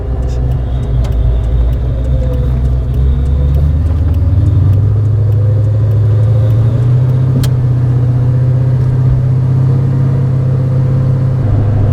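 A 1955 Chevy Bel Air engine rumbles steadily from inside the cabin, its low exhaust note rising slightly as it accelerates, with road noise throughout.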